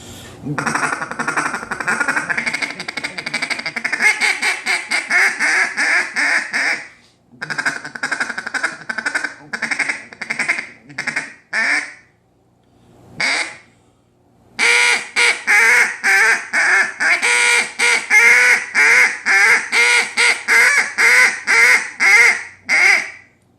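Loud, close Timber Boss duck call sounding long stretches of fast chattering feed calls and raspy quacks, broken by a few short pauses.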